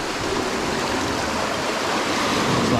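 Rough ocean waves roll in during bad weather, making a loud, continuous rushing roar of surf that holds steady throughout, with no voices.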